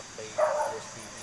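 A dog beside a road barks in one short burst, fairly close, over a steady background hum.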